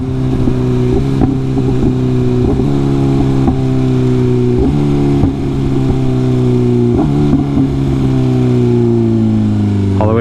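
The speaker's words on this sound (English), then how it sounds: "you ready for the no hands clutchless downshifting?" A Honda motorcycle engine drones loudly as it downshifts without the clutch, each gear change marked by a quick blip and step in pitch while the bike slows, with a rider talking over it.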